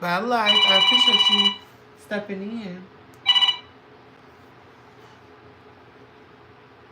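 A phone alarm rings in short electronic bursts, loud at first then returning briefly, with a person talking over and between the tones.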